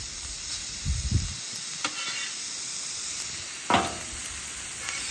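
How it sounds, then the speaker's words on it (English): Hamburger patties sizzle steadily on a griddle, a constant broadband hiss with a few louder scraping or stirring bursts near the start and middle; no talking. "We're just cooking hamburgers."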